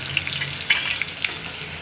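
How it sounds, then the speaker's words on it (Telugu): Onion fries in a pan for gongura curry, giving a steady close sizzle with a few faint stirring clicks and no voices. "ఆ ఉల్లిపాయ కూడా వేసేస్తున్నాను"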